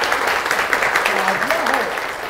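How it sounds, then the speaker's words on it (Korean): Steady applause from an audience at an essay lecture, an even rustling patter throughout with a speaker's voice running over it. "다 같이 박수로."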